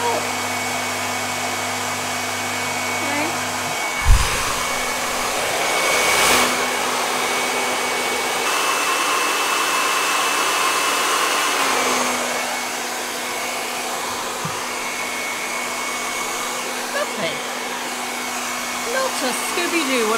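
A hair dryer used with a GHD ceramic radial brush blows steadily and loudly nearby, its airflow and motor whine changing as it is moved around, with a few bumps and handling sounds.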